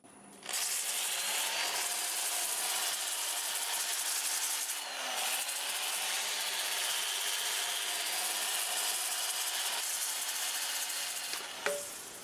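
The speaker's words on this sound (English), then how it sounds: "I'll go ahead and sand this up and I'll start with 80 grit 2-inch disc with the lathe running in reverse at 350." A 2-inch 80 grit sanding disc rubs against English walnut turning on a lathe running in reverse at 350, a continuous loud hissing abrasion that starts abruptly and holds steady before cutting off near the end.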